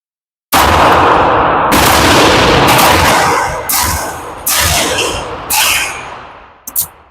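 An Alpha Foxtrot 1911 double-stack Romulus pistol fires self-defense rounds at a range: a close, loud string of about six evenly spaced shots, each with a ringing echo tail.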